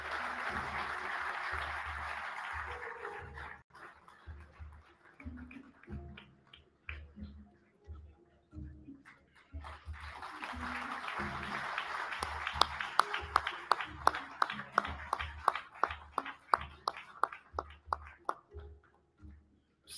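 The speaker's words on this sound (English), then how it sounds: "Just a round of applause," An audience at a formal ceremony honouring a prime minister breaks into sustained applause, a dense wash of many hands that thins out briefly, then swells again with a steadier, rhythmic clapping pattern before tapering off.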